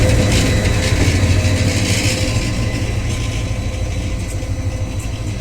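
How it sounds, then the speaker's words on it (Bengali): Tista Express passenger train pulling out of Jamalpur station toward Dhaka, a steady loud low rumble of engine and rolling wagons that holds throughout, fading only slightly toward the end, with no voices. "ঢাকা অভিমুখী তিস্তা এক্সপ্রেস ট্রেন এই মুহূর্তে ঢাকার উদ্দেশ্যে ছেড়ে গেল।"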